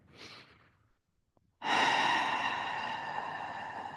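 Breathing of a person holding a supported monkey splits (Hanumanasana) yoga pose: a soft exhale at the start, a pause, then a long steady airy breath sustained to the end, close and fairly quiet.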